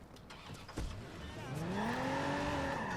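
A convertible's engine in Watch Dogs 2 starts up after a sharp click, then revs and rises steadily in pitch as the car pulls away, fairly near and moderately loud.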